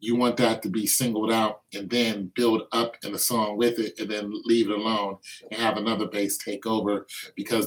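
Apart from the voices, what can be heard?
No everyday noises stand out.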